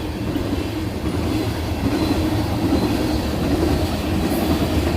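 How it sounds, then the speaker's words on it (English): A train passes very close by, loud and continuous, with a rumbling roll and a faint rhythmic clatter of wheels, and no voices over it. "I have never been that close to a train."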